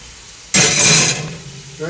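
Pieces of cheap steak, salted and peppered, drop into a hot pot and sear with a sudden loud sizzle that gradually fades a little, with brief talk near the end.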